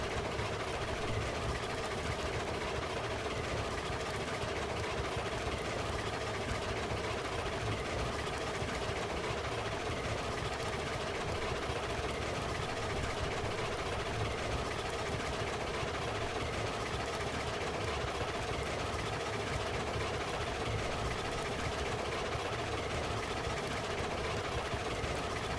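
Steam locomotive in the Railroads Online game, a Climax engine, chuffing steadily as a low continuous rumble with a repetitive beat, turned down and held at a constant level for the whole stretch, with no talk.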